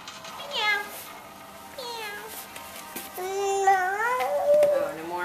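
Voices imitating a cat, with several drawn-out meows in a row, close and clear, from an adult and a small child in a playful exchange of animal sounds.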